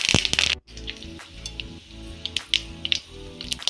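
Mustard seeds and curry leaves crackling and sizzling in hot oil while cooking a broad beans curry, a dense frying hiss with sharp pops and spits scattered throughout, close and fairly loud.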